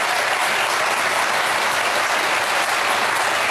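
A studio audience at The View talk show claps steadily and loudly, a dense, unbroken burst of applause lasting the whole moment with no voices over it.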